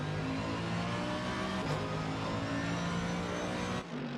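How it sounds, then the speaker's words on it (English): A GT3 race car engine in a racing video game drones steadily at high revs with a slight downshift midway, at the Bathurst circuit, loud and continuous, with no talking. "Sounds great, that car, doesn't it?"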